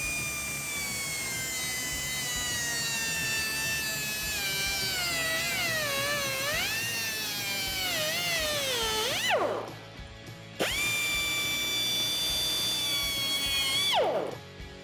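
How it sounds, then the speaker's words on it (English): A cutoff wheel slicing through the heat shield band on a 2018-2020 Mustang GT exhaust, a loud continuous whine that bends in pitch as the cut loads up, then spins down twice in brief pauses. "we're going to start by cutting off the band that holds on this heat shield on the bottom"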